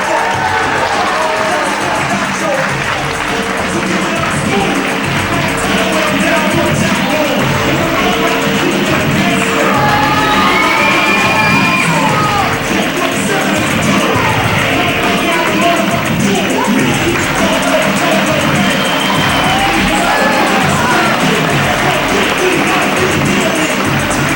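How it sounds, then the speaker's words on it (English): A professional wrestling arena crowd rises in a standing ovation, giving a loud, sustained roar of cheering with scattered whistles and shouts that holds steady throughout. "Maybe the hardest crowd to please in professional wrestling, giving this kid a standing O"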